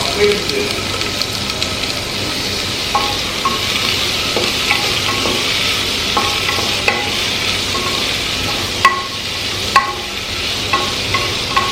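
Onions sizzle steadily in hot oil with cumin in a pan as they are stirred, with a spoon clinking and scraping at intervals against the pan over a constant frying hiss and a voice.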